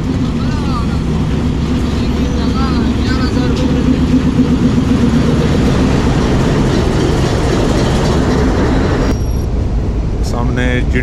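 The Kohat Express locomotive running on the rails between Kohat and Rawalpindi, a loud, continuous rumbling roar from inside the cab with someone speaking over it.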